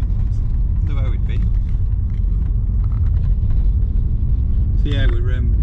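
A steady, loud low rumble of road and engine noise inside a moving car, with people talking briefly over it.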